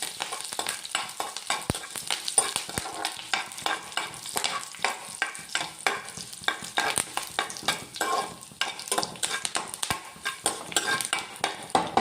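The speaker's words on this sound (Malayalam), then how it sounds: "കടുക് പൊട്ടിക്കഴിഞ്ഞ് നമുക്കിതൊന്ന് മൂപ്പിച്ചെടുക്കാം." Mustard seeds, dried red chillies and curry leaves frying in hot oil in a pan, a loud, close, continuous crackle and sizzle with dense popping bursts and occasional stirring clinks, no voices.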